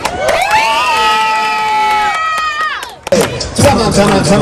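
At a halal food festival in Astoria, New York, a crowd erupts in cheering and high-pitched shouting for Eid, with children's voices prominent, rising loudly, briefly dipping, then surging again.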